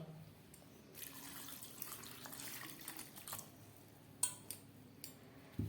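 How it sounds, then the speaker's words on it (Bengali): Water is poured into a pan of potatoes with salt and a little turmeric, a soft splashing stream lasting a couple of seconds, followed by faint drips and small kitchen clicks. "আর দিয়ে দিচ্ছি কিছুটা জল"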